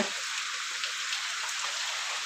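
Rain falls steadily over a farm field, a dense even hiss of drops with no distinct gaps, close and fairly loud, with no talking.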